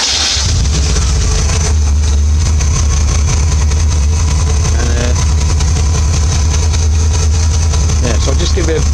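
A 1982 Triumph TR7 V8 convertible with a 4.6 litre engine ticks over at a loud, steady idle with a deep low rumble, heard up close while a voice talks over it.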